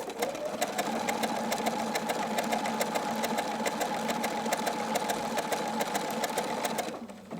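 A sewing machine running steadily for about seven seconds while straight-stitching through appliqué fabric, a fast even mechanical hum and needle clatter that stops abruptly near the end.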